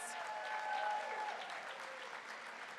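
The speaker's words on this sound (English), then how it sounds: "Give them a round of applause." Applause from the audience at an awards ceremony, an even wash of many hands clapping, fairly distant and soft, with faint voices underneath.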